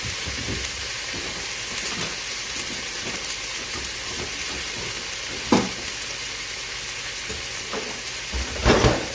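Steady crackling sizzle of food frying in a pan, with a few louder pops and clinks of utensils near the end.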